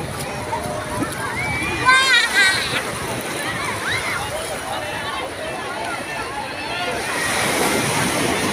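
Sea waves washing in on a crowded Alexandria beach, continuous surf with wind buffeting the microphone and someone talking over it.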